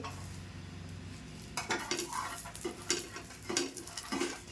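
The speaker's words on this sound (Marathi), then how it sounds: "या दोन मिरच्या ह्या सुक्या मिरच्या पण आणि आलं आणि लसूण हे सगळं मी एकत्र भाजून घेते" Dried red chillies, ginger and garlic dry-roasting together in a pan for a Malvani crab curry, with repeated scraping and stirring clatters of a utensil against the pan over a faint background hiss, no talk.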